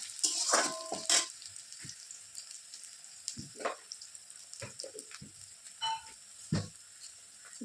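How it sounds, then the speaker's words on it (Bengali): Onions fry in a pan with gentle sizzling and crackles, punctuated by clinks and scrapes of stirring, close and fairly quiet, with no voices. "এদিকে আমার পেঁয়াজটা একটু ভাজা ভাজা হয়ে গেছে।"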